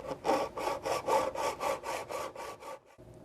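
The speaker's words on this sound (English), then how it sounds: "Using your hacksaw with a fine-tooth blade, you'll just cut through." A hacksaw with a fine-tooth blade cuts a window screen frame held in a miter box, making about a dozen even, rhythmic back-and-forth rasping strokes up close before stopping.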